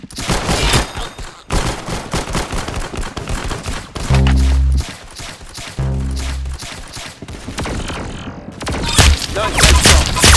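Rapid gunfire bursts from the video game Arsenal, loud and close, with volleys of shots broken by brief pauses and a few heavier booming hits in between.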